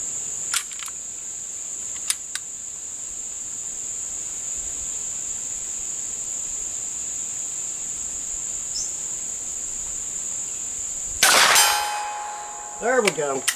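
Faint, distant metallic ding of a .22 Short bullet hitting a steel target at 100 yards, over a steady high insect-like whine and outdoor hiss, with a few sharp clicks and a louder clatter near the end.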